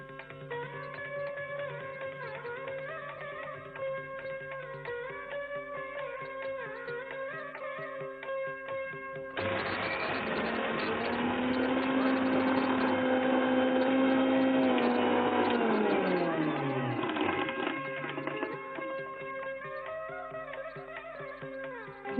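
An electric grinder powders roasted spices for a Koya Kai pickle. The motor starts abruptly partway in, whirs loudly for several seconds, then winds down with a falling whine, all under steady background music.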